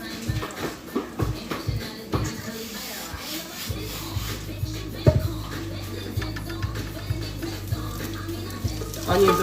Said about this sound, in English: Onions are frying up nice.